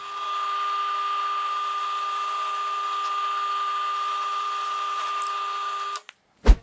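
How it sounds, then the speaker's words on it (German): A steady, high-pitched electric drill whirs continuously into wood for about six seconds, then cuts off abruptly, followed by a brief knock. "Und da bohren wir jetzt."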